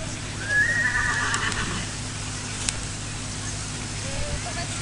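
A horse whinnies briefly amid a faint hum and murmuring background, the call fairly distant and not loud.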